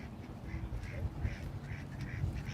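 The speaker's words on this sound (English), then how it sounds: "we will have live duck racing presented by Atmos Energy, our Indian runner ducks that we have raised since babies" Indian runner ducks at a livestock area of a riverside festival quack in a steady series of short calls, moderately close over a low murmur of crowd noise.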